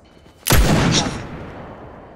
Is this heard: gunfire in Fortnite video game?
yes